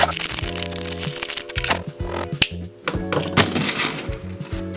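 Boneshaker and Twin Mill toy cars are pulled out of their packaging by hand: loud, close crackling and snapping of plastic and cardboard, with quick rustles and sharp pops throughout and no speech.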